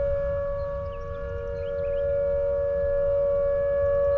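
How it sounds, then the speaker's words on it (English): A civil defense siren sounds in the video game Tornado: Research & Rescue, heard right beside it as a loud, steady sustained wail holding one pitch throughout with no speech. "we're actually going to trigger the siren for the first time"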